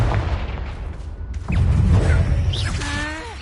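The Confringo blasting spell in the wizarding game Hogwarts Legacy sets off one loud booming blast with a rushing whoosh partway through, and the roar trails off into a ringing tail.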